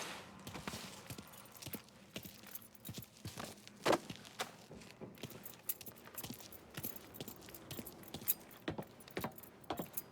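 Car keys jangle in the Mafia 3 video game, a steady metallic clinking that runs throughout with a sharper, louder rattle partway through, close and fairly quiet, with no talking over it.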